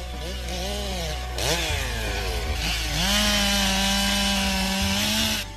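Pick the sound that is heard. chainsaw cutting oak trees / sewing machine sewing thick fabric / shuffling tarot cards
chainsaw cutting oak trees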